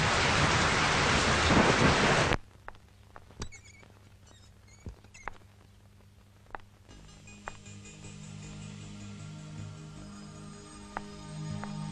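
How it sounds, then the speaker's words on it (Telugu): Heavy rain pours down in a loud, dense hiss for about two seconds, then cuts abruptly to a much quieter indoor scene with faint ticks and a low hum. "ఇంత వర్షంలోనా?"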